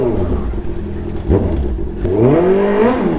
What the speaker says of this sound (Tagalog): naririnig niyo yung tambucho, di ba?